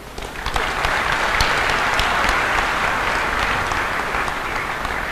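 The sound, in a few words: audience applauding everyone present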